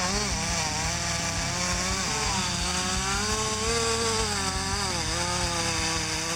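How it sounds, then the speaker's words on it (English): Stihl MS-361 chainsaw felling a large oak tree outdoors, a loud continuous engine whine that rises and falls in pitch as the chain bites into the wood, close and unbroken throughout. "thanks to the power of a chainsaw, he still successfully cut down 3 large oak trees"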